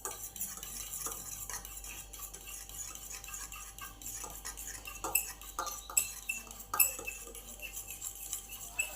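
Eggs with green chili and salt are beaten for an omelette, a fast, continuous clinking and swishing of utensil against bowl, close and fairly quiet, growing a little sharper toward the end.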